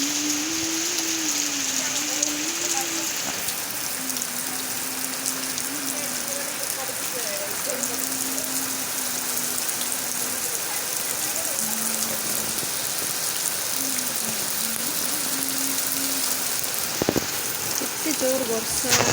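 Heavy rain pours down steadily in a loud, continuous broadband hiss for the whole stretch, with a voice speaking or singing over it throughout.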